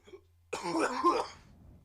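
A single harsh cough bursts out close to the mic after a brief quiet moment, then fades.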